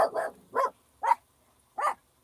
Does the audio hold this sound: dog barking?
yes